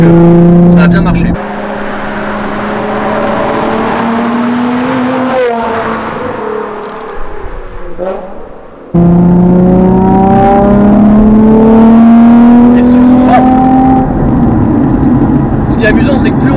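Nissan 350Z engine revving while driving, exhaust note climbing steadily through the gears with a brief drop between shifts, loud from inside the cabin, under talk.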